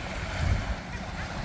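Sea waves wash in at the seaside in Kuwait in the evening, a steady low surf rumble mixed with gusty wind noise, continuous and moderately loud with no talk.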